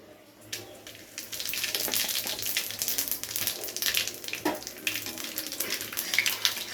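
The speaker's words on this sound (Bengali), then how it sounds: "এবারে তেলের মধ্যে দিয়ে দিচ্ছি ফোড়নের জন্য 2টো তেজপাতা, আর তার সঙ্গে দিয়ে দেবো গোটা জিরে" Two bay leaves and whole cumin seeds crackle in hot oil. A steady close sizzle builds after a quiet start, with dense hissing and scattered sharp pops continuing throughout.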